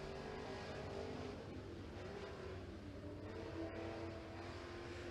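A race car on its qualifying lap at Tazewell Speedway, an engine drone that rises and falls in pitch as it passes, heard faintly from a distance with no talking.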